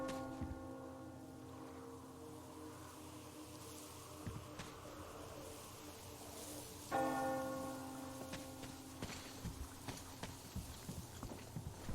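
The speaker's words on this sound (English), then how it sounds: "Do you hear that bell?" A bell tolls in the Metro Exodus video game, several slow, resonant strikes ringing out over a dim ambient game soundscape, with occasional footsteps and no talk.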